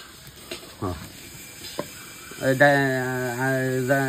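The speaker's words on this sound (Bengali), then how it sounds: "মুগ ডাইলে ভাজা হইতেছে" Mung dal frying in a pan on a clay stove gives a low sizzle with a few scraping stir sounds, while a voice is heard over the second half.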